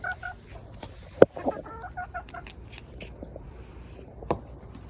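Hens cluck and murmur in short bursts at close range, with a sharp knock partway through and another clatter near the end.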